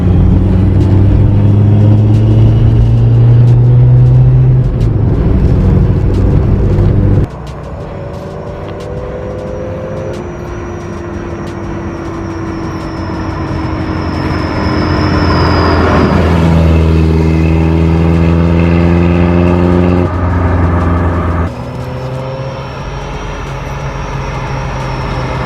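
A 1980 Toyota Corona wagon's engine drones steadily from inside the car while driving, with pitch shifts as the gears change and the revs climb and settle, joined by a faint high whine.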